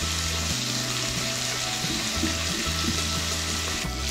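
Tomatoes sautéing in a pan for a banana flower stew (vazhaipoo kootu): a steady, close sizzling hiss over a low, constant hum, without pause and with no voices.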